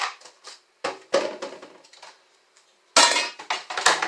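A knife chops through celery stalks on a cutting board, with a series of sharp, close knocks in uneven clusters and brief pauses between cuts, no one talking.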